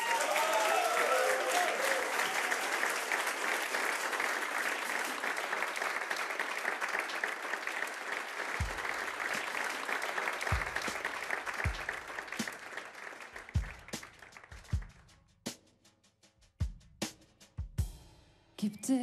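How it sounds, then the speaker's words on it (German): Loud, sustained concert audience applause for a singer fills the room, gradually thinning into scattered claps and a few isolated hand slaps at the end. "Großen Applaus."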